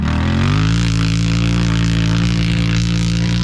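A Yamaha YFZ450R quad with a freshly installed engine runs close by in a steady, loud, buzzing rev held evenly throughout, with no voices.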